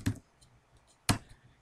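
Two separate keystrokes on a computer keyboard while entering a shell script, each a crisp click about a second apart over quiet room tone.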